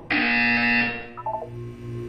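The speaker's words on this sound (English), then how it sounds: "When you hear the buzzer, look down at the floor." A single loud electronic buzzer in Portal 2 blares for about a second, harsh and tonal, then fades into quieter game tones and a low hum.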